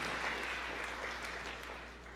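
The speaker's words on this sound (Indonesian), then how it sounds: "Yang setuju berikan tepuk tangan yang meriah buat Tuhan" A church congregation claps in a sustained, dense burst of applause that slowly fades toward the end, with no voices over it.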